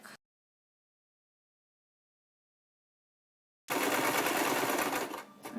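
A sewing machine stitches cloth diaper fabric, a brief burst at the start, then silence, then a loud, close, steady whirring run of stitching that eases slightly at the end.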